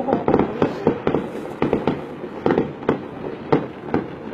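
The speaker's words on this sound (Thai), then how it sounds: "นี่ผมสั่งพลุมาโดยการนี้โดยเฉพาะเลย" Fireworks set off to open a seminar on the law of attraction and finance, bursting as a rapid string of loud, sharp cracks and pops, roughly a dozen over a few seconds, with no voices.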